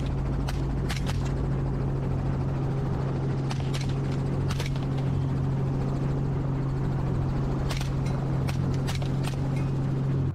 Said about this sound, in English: The helicopter has to circle multiple times, burning through fuel.